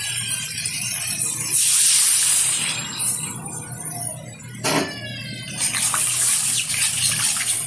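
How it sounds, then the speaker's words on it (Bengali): Water poured into a pan of potato-tomato masala, cooked for a fish curry with bata fish, gushing and splashing loudly with a hissing spray across most of the stretch, briefly easing midway before resuming. "এখন দিয়ে দেবো এর মধ্যে পরিমাণ মতো জল।"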